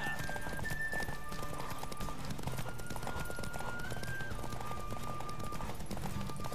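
A horse gallops in The Witcher 3: Wild Hunt, its hooves beating a fast, steady clip-clop rhythm beneath a held musical tone from the game.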